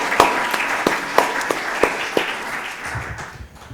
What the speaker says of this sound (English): Please join me in giving them one more big hand of applause.